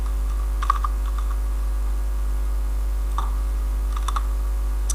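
A few sparse keystroke clicks on a computer keyboard, including Shift+Enter pressed to run code, sounding as light, isolated taps over a steady low electrical hum.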